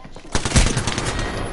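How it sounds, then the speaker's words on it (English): Rapid automatic gunfire in the video game Apex Legends bursts in suddenly and rattles on at close range, a dense volley of shots. "You getting shot at, dude?"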